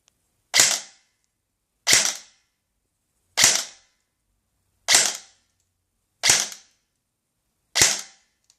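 A G&P Sentry M4 airsoft rifle running on an 11.1 battery fires six single shots, each a sharp, loud snap, evenly spaced about a second and a half apart with silence in between.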